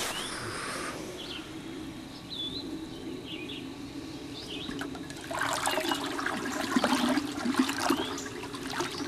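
Water swirls and sloshes as biodynamic spray is stirred into a vortex inside a crock, a soft continuous churning that swells louder toward the end, with faint bird calls in the background.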